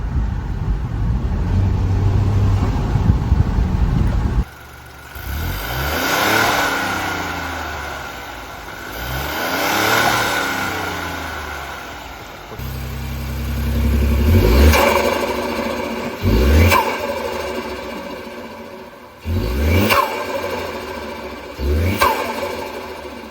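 Ford Bronco Sport with a K&N cold air intake, its turbocharged engine revving up repeatedly through gear shifts, each pull rising and dropping with sharp breaks between shifts, loud and close.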